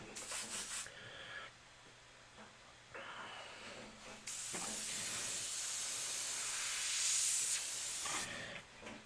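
An airbrush sprays opaque white paint in bursts, a steady close hiss that starts and stops several times before one long, louder sustained spray toward the end.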